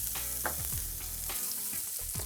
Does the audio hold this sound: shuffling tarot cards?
no